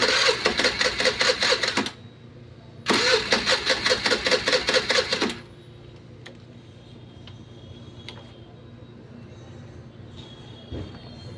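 A Honda Activa scooter with a starting problem cranks with a rapid ticking starter whir in two loud bursts of about two seconds each. A low idle hum follows, then a faint steady background.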